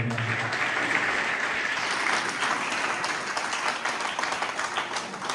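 Loud, sustained applause from a large audience, thick overlapping claps that gradually grow more uneven toward the end.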